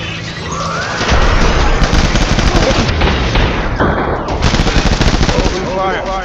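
Loud, sustained automatic gunfire in the Death Stranding video game, heavy bursts rolling almost without pause alongside booms and battle clutter, with a short break partway through.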